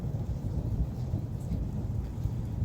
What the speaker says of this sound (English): There's thunder going off,